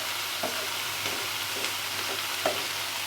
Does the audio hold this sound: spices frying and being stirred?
yes